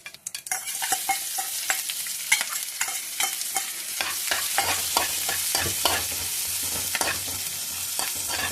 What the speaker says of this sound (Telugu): తాలింపు వేస్తున్నానండి